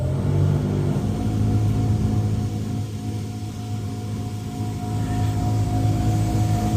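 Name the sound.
seed separator with VFD controls running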